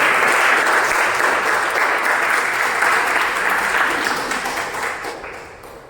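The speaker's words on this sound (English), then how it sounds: "Can we have a round of applause for that?" A meeting audience applauding as the next speaker comes up, dense sustained clapping that gradually fades toward the end.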